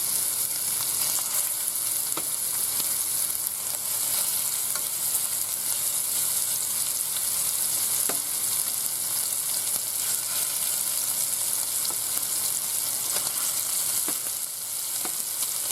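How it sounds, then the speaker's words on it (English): Meatballs searing in a frying pan give a continuous close sizzle with scattered small pops and crackles, steady and unbroken throughout. "Let those sear on each side."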